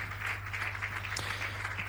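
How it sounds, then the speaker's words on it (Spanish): Church congregation clapping in praise, a steady, continuous patter of many hands over a low, constant electrical hum, moderately quiet and unbroken. "Ese aplauso es de alabanza para el Señor."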